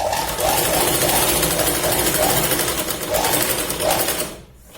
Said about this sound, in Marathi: या पॉइंट पर्यंत आपण पूर्ण शिलाई लावून घेतो